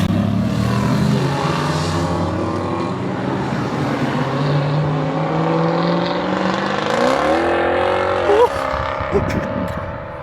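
Aston Martin cars at Le Mans Classic accelerate together, engines rising in pitch as they rev up, loud and close, with excited voices talking over the roar.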